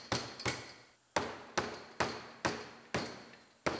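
A plastic scuff pad is snapped onto the bumper of a 2017 GMC Terrain SLE, making a run of about nine sharp, close clicks and knocks at an uneven pace in a quiet room.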